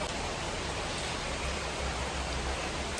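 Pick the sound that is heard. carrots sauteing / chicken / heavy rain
heavy rain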